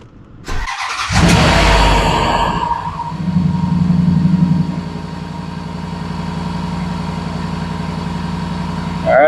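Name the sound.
Range Rover engine running after oil change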